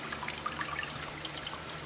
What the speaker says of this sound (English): We drain it into a bin like this.